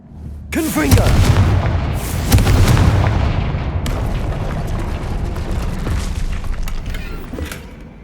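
A Confringo fire spell blast in the Hogwarts Legacy video game, a loud sudden booming impact followed by a second heavy burst and sustained rumbling crackle, with a voice nearby.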